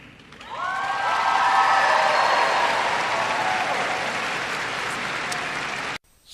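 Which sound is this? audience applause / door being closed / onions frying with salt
audience applause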